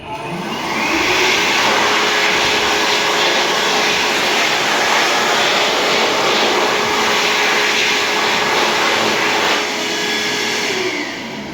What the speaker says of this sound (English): all of the toilets here, including the disabled, are fitted with Diamond V hand dryers supplied by Supreme.